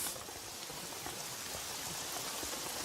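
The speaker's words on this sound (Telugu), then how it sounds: "వర్షం పడుతుందమ్మా" Rain falls steadily as a soft, even patter of drops on surfaces, faint and distant throughout with no voices.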